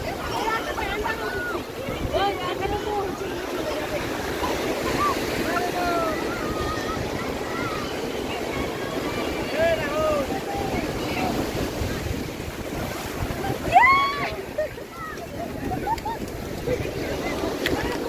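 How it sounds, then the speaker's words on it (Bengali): Big ocean waves breaking on Puri beach form a loud, continuous roar of surf mixed with wind buffeting the microphone, while people talk and call out over it throughout. "তো গাইস খালি ঢেউটা দেখো, বিশাল বড় বড় ঢেউ আসছে।"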